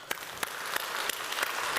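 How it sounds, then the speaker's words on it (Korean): Congregation applauding during a sermon at a Korean church: a short burst of steady, moderately close clapping from many hands, with no voices over it. "박수."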